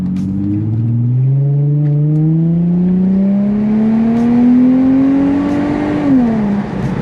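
An Infiniti G35 with a muffler delete drones loudly and close, its engine note climbing steadily for several seconds, then dropping off near the end.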